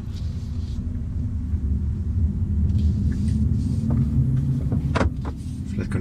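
A BMW i4 electric car driving slowly, giving a steady low rumble of road and drive noise with a faint artificial drive sound, plus a few brief higher clicks near the end.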